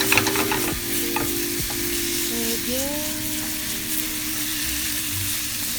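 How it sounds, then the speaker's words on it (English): Wine cooks off in a hot pan with prosciutto as a utensil scrapes the burnt bits from the bottom. A steady loud sizzle runs throughout, with close scraping and stirring over it. "Scrape the pan so I can really get everything incorporated. All those burnt bits, just really scrape it in there."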